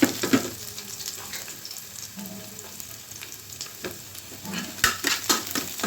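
Ginger and garlic fry in a hot pan for a crispy baby corn Manchurian, giving a steady close sizzle with stirring scrapes and a few sharper crackles near the end.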